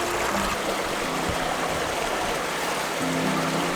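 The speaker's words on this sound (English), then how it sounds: "So I've come over to the other small cascade." A small river cascade outdoors, its water rushing in a steady, loud, unbroken wash close by with no voices.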